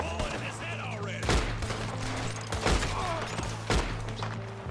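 Gunfire in a Red Dead Redemption 2 gunfight: several loud, sharp gunshots ring out about a second apart over a steady low game hum and background bustle.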